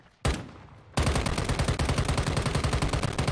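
Gunfire in Call of Duty: Warzone Mobile, a loud, sustained rapid burst of automatic weapon fire that rattles almost without pause after a brief opening shot, close and dense.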